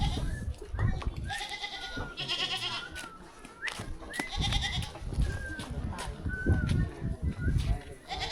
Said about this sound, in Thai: นี่ในชนบทนี่นิยมเลี้ยงแพะเป็นยังไงพี่น้อง